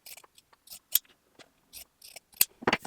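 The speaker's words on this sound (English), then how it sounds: "I find that pinking shears can really come in handy for trimming" Pinking shears snip through a fabric seam allowance on a hanging tea towel, making a series of short, crisp clipped cuts in irregular bursts, close and fairly quiet with gaps of silence between them.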